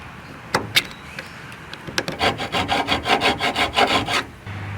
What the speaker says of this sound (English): We're just going to kind of deburr it.